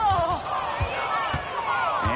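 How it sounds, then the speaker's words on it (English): Basketball game in which Brianna Jones breaks away alone and slams in a dunk, heard as a few dull thuds under a steady roaring crowd and continuous commentary. "And Brianna Jones slams it in."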